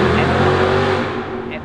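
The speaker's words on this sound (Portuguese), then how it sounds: "essa M3, 700 cavalos, se eu não me engano" BMW M3 with about 700 horsepower, its engine roaring loudly at close range before fading away, with a voice talking over it.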